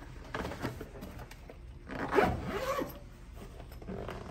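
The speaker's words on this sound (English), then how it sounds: "And we just zipper up." A zipper closes a travel trailer leveling kit bag, a few quick close rasping pulls with a longer, louder zip in the middle, heard alone.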